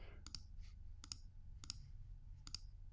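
Four crisp double mouse clicks, close and distinct, come at a steady pace over quiet room hum while clicking a Chrome extension button; nobody speaks.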